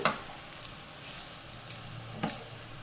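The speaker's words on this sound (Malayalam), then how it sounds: "അപ്പോൾ ഇതും കൂടെ നമുക്കൊന്ന് ഇളക്കി നല്ലതുപോലെ മിക്സ് ചെയ്ത് കൊടുക്കാം." Tomato and spring onion fried rice stirred in a pan, giving a faint, soft sizzle with a couple of light scraping knocks.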